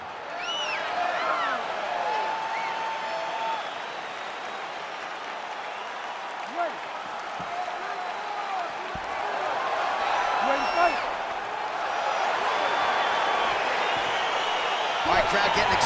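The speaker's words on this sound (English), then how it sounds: "crowd getting excited as this fight gets underway" Arena crowd in the EA Sports UFC 4 video game roars and cheers continuously as a fight gets underway, a dense, loud wash of voices with whistles and shouts, swelling in the second half.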